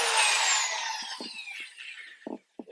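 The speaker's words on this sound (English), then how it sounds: "our electric drill" An electric drill fitted with a spot cutter grinds into seat rail spot welds, a loud continuous whine with falling pitch that trails off into short bursts of cutting and brief gaps.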